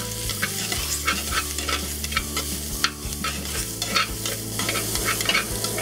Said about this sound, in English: We'll cook up the ginger and garlic.